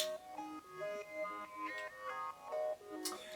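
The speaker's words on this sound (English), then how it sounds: "with another synth sound like this." A synthesizer patch from Cubase's Prologue plays a short, bright melodic phrase of distinct stepping notes in a psytrance arrangement, fairly quiet, with a swelling high accent at the end.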